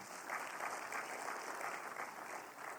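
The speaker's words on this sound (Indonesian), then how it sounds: "Yang percaya berikan tepuk tangan bagi Allah kita." A church congregation claps during a Wednesday worship service, a soft, distant wash of steady applause heard faintly throughout.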